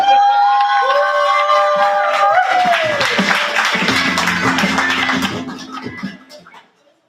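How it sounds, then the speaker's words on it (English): An open mic crowd cheers and whoops loudly with scattered clapping and high shouts, welcoming a poet to the stage, the noise fading away over the last couple of seconds. "let's clap it up and welcome Aisha to the stage"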